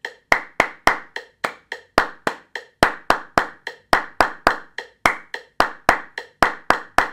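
A group of 22 musicians claps in unison in a steady pattern, sharp near claps separated by short silences, the tempo gradually quickening across the passage.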